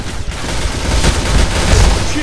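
Loud, dense gunfire from Point Blank, a sniper rifle among the weapons, with a couple of sharp reports rising out of a continuous roar of battle noise.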